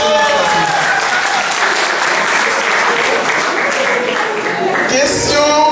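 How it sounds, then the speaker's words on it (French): Lively audience applause at a quiz show final in Paris, a loud sustained clapping crowd with a voice faintly over it near the end. "Un peu d'applaudissements encore pour cette action."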